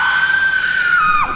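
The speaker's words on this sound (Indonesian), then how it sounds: "Teriaknya kenceng banget ya?" A loud, sustained high-pitched scream from a woman in an Indonesian drama, held steadily for over a second before breaking off.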